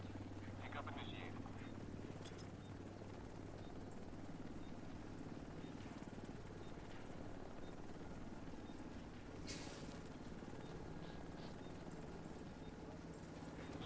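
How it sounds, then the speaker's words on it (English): A pickup helicopter in the video game The Division 2 hovers nearby with a steady low rotor drone that fills the scene, with a few brief clatters and bursts over it and no talk. "Chopper will leave in 30 seconds."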